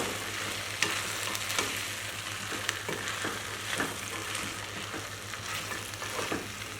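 Coconut beans are stirred slowly in a pot, a soft continuous bubbling sizzle with light scraping strokes of a spoon and a low steady hum underneath.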